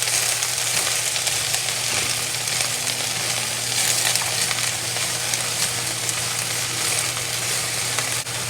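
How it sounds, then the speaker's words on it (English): Mustard greens stir-fried with garlic in a hot wok, a loud, steady sizzle and crackle running continuously, close and alone with no talk. "we add the mustard green to it. Now we stir fry it."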